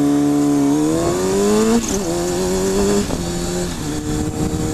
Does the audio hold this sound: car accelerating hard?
yes